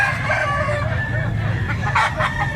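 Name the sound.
rooster crowing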